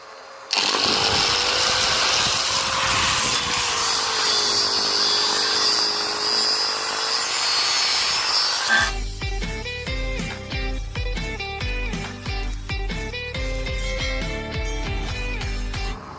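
A faulty angle grinder that makes a strange noise and loses power on and off runs with a steady, loud high whine and slight wavering pitch for about eight seconds, then gives way to music.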